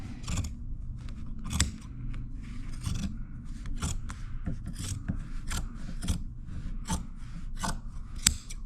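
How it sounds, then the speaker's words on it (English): Scissors snip repeatedly through upholstery fabric up close, crisp rhythmic cuts about once a second with soft rustling between them. "These scissors, I gotta change them."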